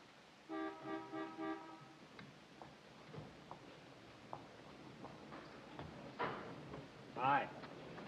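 Car horn toots in a short rhythmic series of beeps, faint and distant, followed by scattered quiet clicks and knocks in a room.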